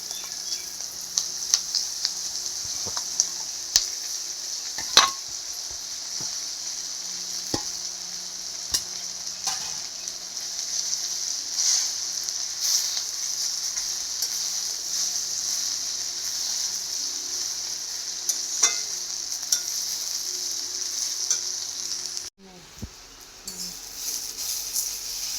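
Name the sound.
jute leaves frying and being stirred in a pan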